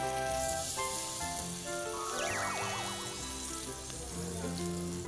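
Anchovy fritter batter crackles and sizzles in a frying pan, a moderate hiss with pops, mixed with background music and a brief whooshing sound effect.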